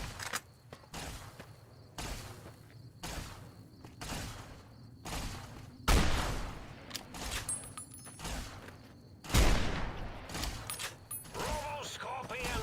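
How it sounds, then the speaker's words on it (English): Anti-materiel rifle fire in Fallout: New Vegas: two heavy, booming shots stand out over a steady run of rhythmic mechanical clatter and thuds, each shot loud and sharp with a short ringing tail. "I'm also going to switch over to the anti-material rifle."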